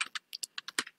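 Rapid, uneven keystrokes on a computer keyboard, about nine sharp clicks in quick succession, close and clear with no talking.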